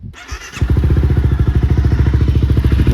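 A Honda CBR 250R motorcycle engine idles with an aftermarket exhaust fitted, catching after a brief crank and settling into a loud, close, even rapid thumping pulse that runs steadily with no talk.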